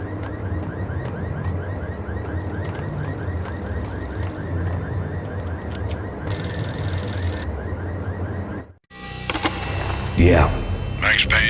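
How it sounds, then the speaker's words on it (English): Payphone ringing in the video game Max Payne, repeated bell-like rings pulsing steadily over a dark ambient bed before a pause and a noisy pickup. "payphone started to ring"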